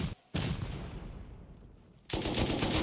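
Rapid automatic fire from an M2 heavy machine gun in the video game Rust, loud and close, with a burst, a brief lull of quieter rumbling, then another sustained burst.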